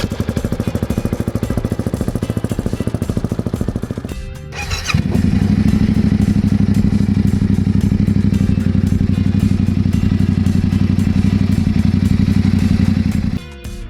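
A KTM 625 or Yamaha Tenere 700 adventure motorcycle engine running loud and close, a steady throbbing idle that cuts out briefly, then restarts and revs into a deeper sustained rumble.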